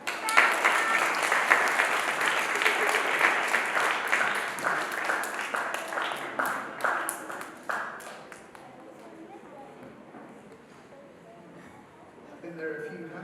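An audience at a school prize day claps loudly and evenly, the applause tapering into scattered claps and dying away, with a voice starting up near the end.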